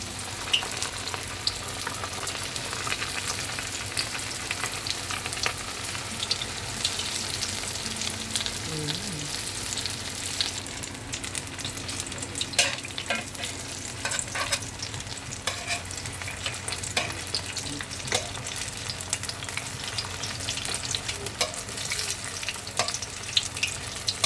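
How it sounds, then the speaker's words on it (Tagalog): Turon, banana spring rolls, fry in hot oil with arnibal caramel syrup, a continuous soft sizzle and bubbling crackle heard up close, with occasional utensil clinks and no talk. "Sasalang na natin. Ang ating mga turon."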